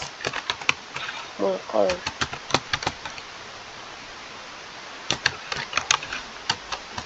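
A formula is typed on a computer keyboard in sharp, irregular clicks, a quick burst at the start, then a quiet gap before another run of keystrokes, with brief speech in between.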